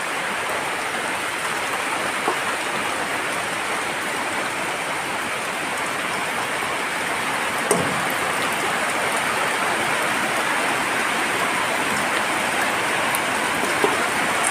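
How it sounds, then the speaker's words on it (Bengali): Heavy rain pours down in a village, a dense, steady hiss of drops on surfaces that holds even and unbroken throughout, with no voices. "দেখতেই পাচ্ছেন কি পরিমাণ বৃষ্টি হচ্ছে, কি সুন্দর।"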